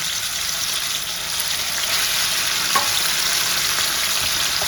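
Marinated boneless chicken fries in hot oil in a pan with a dense, steady sizzle throughout and one small pop partway through. No one speaks.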